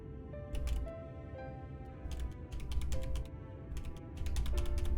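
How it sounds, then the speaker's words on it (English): Hard tapping on a computer keyboard in bursts of quick, sharp clicks, with short pauses between clusters, fairly close and moderately quiet against a faint background hum. "I'm gonna tap on my keyboard kind of hard right now"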